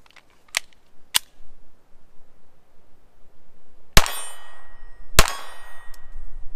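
A Taurus TX22 pistol fires CCI standard velocity .22 target ammunition outdoors: a couple of small sharp cracks early, then two louder shots a second apart, each followed by a ringing tail, with no talking.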